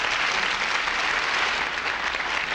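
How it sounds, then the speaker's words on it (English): A studio audience at a 1973 television variety show breaks into sustained, dense applause, many hands clapping together at an even level with no talk over it. "Give him a big round of applause."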